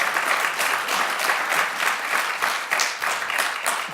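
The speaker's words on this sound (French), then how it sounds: "Alors applaudissez d'abord Marlon Brando." A press conference audience applauds, dense steady clapping from many hands sustained throughout, close and fairly loud.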